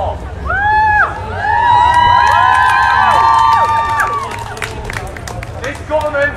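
A protest crowd shouts and cheers loudly and continuously, with whistles and high voices rising above a dense roar of voices and scattered claps.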